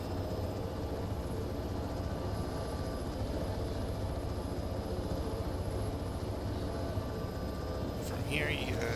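A helicopter in the ArmA 3 video game powers up for takeoff, its steady rotor thrum and engine drone filling the scene at an even, continuous level.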